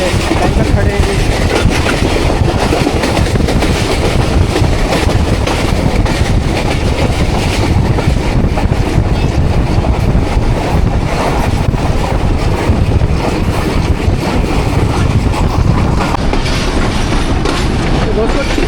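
The Millat Express passenger train runs on rails at speed, with loud, continuous rumbling, rattling and wind noise throughout, and faint voices mixed into the din.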